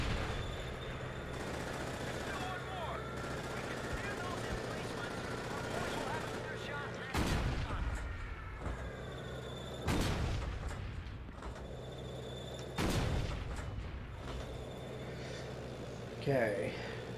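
In a WWII video game, several heavy booms from an 88 mm gun land at intervals over constant battle rumble, with a voice talking throughout.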